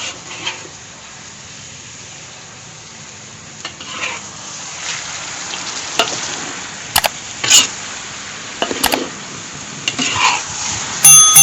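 Catfish and noni leaves being stirred and fried in a pan, a steady soft sizzle with scraping spatula strokes and occasional clinks of utensil against the metal, growing busier toward the end.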